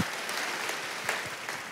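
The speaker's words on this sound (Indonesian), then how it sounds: "Yang percaya berikan tepuk tangan yang meriah." A church congregation applauds during a sermon, with brief, fairly soft clapping from many hands that holds evenly throughout and has no talking over it.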